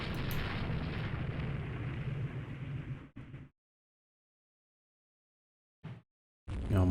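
Naval cruiser guns firing in Rule the Waves 3, a loud roaring blast that holds for about three seconds and cuts off abruptly, then silence broken by a short burst and another sudden loud report.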